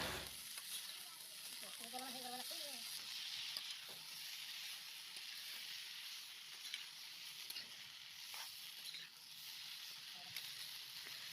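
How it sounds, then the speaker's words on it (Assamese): Broccoli, tomato and potato fry in a pan, a soft, even sizzle hissing steadily throughout, with a brief voice in the background early on. "এয়া দিলে ব্ৰকলি, বিলাহী, আলু ফ্ৰাই কৰিবৰ বাবে অলপ টাইম ফ্ৰাই কৰি ল'ব।"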